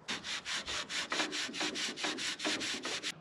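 Rusty steel piston shaft from a steam cleaner pump being scrubbed by hand with an abrasive, a steady back-and-forth rasping in about a dozen even strokes, close and fairly loud, with no talking.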